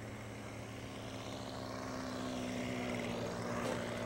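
An RC model airplane flies overhead, its propeller engine a steady buzzing drone that swells gradually louder as it draws nearer, heard alone.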